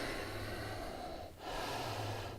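A long, audible breath out during a yoga session, moving into a forward fold, loud and close, then a brief pause and another breath starting.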